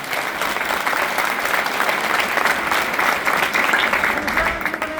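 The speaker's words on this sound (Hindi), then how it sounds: "जोरदार ताली बजा दो।" Sustained, dense clapping from a large crowd at a Johar Chhattisgarh Party political rally in Patan, steady and loud throughout without pause.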